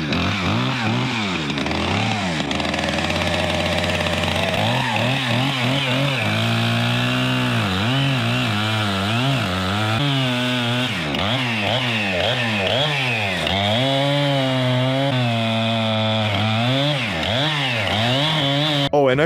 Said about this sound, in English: some guy came with a chainsaw and chopped the log almost through